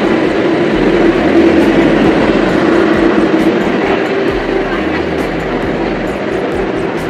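A train pulls out from platform 8 of a station with a loud, continuous rumble and roar heard from close on board. The sound is steady and heavy, easing slightly toward the end, with no clear voices.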